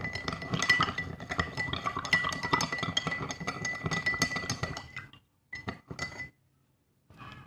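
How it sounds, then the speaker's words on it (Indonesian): A spoon stirs a teaspoon of salt in a glass of 100 ml water, giving a steady run of rapid, bright clinks against the glass that break into a few scattered taps and then stop. "Dan kita aduk secara konstan."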